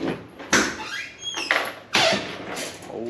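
An old door squeaks open and shut several times, high whining creaks alternating with soft thuds and rustling, close and clear with no one talking.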